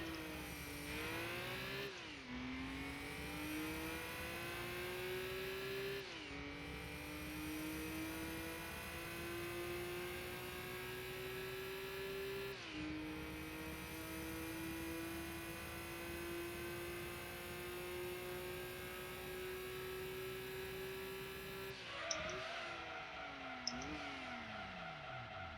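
Nissan Skyline R34 GT-R A-Spec engine in Gran Turismo 2 revving hard through a steady climb, pitch rising then dropping at each gear change, several shifts in a row, loud and continuous with a few clicks near the end.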